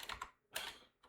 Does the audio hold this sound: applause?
no